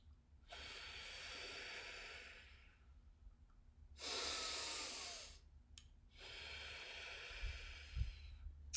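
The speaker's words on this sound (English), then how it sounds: "I will inhale through the nose, but then exhale through the mouth with the purse sleeve, like that." Slow pursed-lip breathing exercise: a long nasal inhale followed by a sustained exhale through pursed lips, then another breathing cycle, close and clear with no talk.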